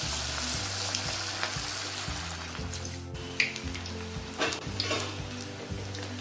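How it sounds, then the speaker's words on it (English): Veg Manchurian balls deep fry in medium-hot oil, giving a dense, steady bubbling sizzle over a low droning hum, with occasional light knocks and no speech. "Add the Manchurian balls into the mediumly hot oil"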